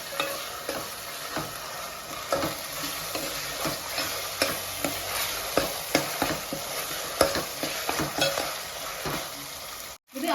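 Ginger-garlic paste and tomato frying in oil for a goat head curry, a steady close sizzle punctuated by regular scraping and tapping strokes of a spoon stirring the pan, no talking.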